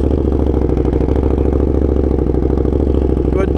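A KTM Super Duke motorcycle engine idles up close, a loud, even, rapid throbbing pulse that holds steady without revving.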